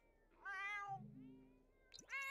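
A cat meowing in a life-simulation video game, two close, clear meows separated by a short pause, with a lower tone sounding between them.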